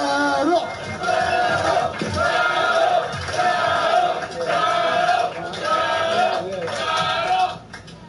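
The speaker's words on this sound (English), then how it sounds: "Clap your hands one more time." A comedy club crowd at a roast battle show claps and cheers continuously and loudly, with whoops and shouts rising in waves before dropping off at the end.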